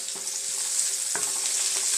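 Ginger sizzling and frying in a pan for yellow wine chicken, a steady bright hiss with a few soft stirring scrapes and clicks, close and continuous with no talk.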